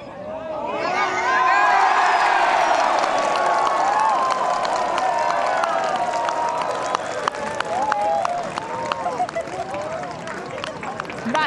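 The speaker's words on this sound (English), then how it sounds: "The crowds are elated, and so they should be." A golf gallery at an LPGA final round in Thailand erupts after an eagle putt on the 16th, a loud swelling roar of cheers and whoops that gives way to sustained clapping, with excited chatter throughout.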